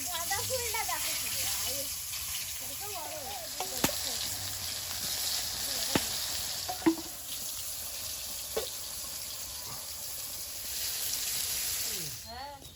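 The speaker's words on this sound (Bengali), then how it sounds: "বেগুনগুলো ভেজে নেবো তেলে" Eggplant slices fry in hot oil with a steady broadband sizzle running the whole time, broken by a few sharp clicks and clatters, while people chat over it in the background.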